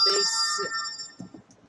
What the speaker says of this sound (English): thanks, phone, for interrupting my video.